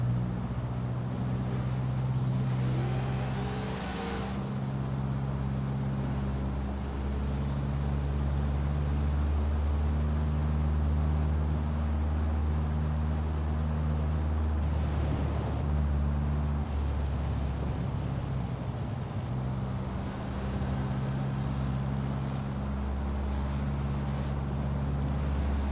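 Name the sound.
car engine high revs while cruising, Forza Horizon 4 video game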